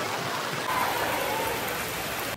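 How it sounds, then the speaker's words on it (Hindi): Steady rain falls continuously during a Chehlum procession in Okara, a dense even hiss of drops on surfaces close by with no voices over it. "बारिश फिर से स्टार्ट हो चुकी है"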